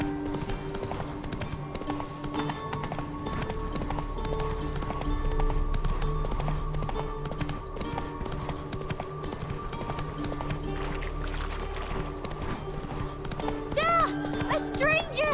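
Roach the horse gallops in The Witcher 3, with rapid rhythmic hoofbeats over a drone of game music and ambience, while voices talk over it.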